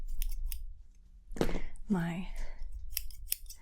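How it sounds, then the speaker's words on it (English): Sharp scissors trimming hair in a soft-spoken ASMR haircut, giving several crisp close snips spaced apart, with a quiet voice murmuring briefly in between. "I'll be using"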